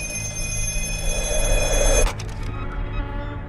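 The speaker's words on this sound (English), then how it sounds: "Soon enough, in this basement, the disconnected black phone rings." A disconnected black telephone in a basement rings in the horror film The Black Phone, a steady metallic bell trill held for about two seconds before cutting off, leaving a low room hum.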